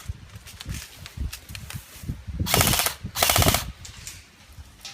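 MP5 submachine gun test-fired on full auto, two loud close bursts of rapid shots in quick succession, with quieter handling noise and scattered single reports around them.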